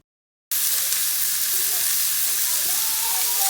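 Beef browning in a frying pan, a loud, bright sizzle that bursts in abruptly after a short silence and then holds steady with light stirring scrapes.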